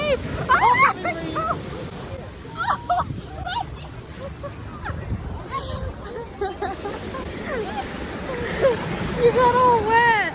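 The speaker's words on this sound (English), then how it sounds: "That's a big wave." Big ocean waves crash and wash up a beach in a broad, rushing roar that swells loudest at the start and end, with children and adults talking and calling out over the surf.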